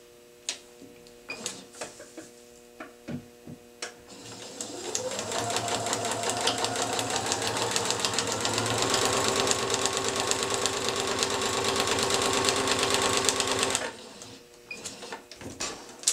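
Sewing machine stitching down a seam line, a steady loud mechanical whir running continuously for about ten seconds, preceded and followed by scattered small handling clicks.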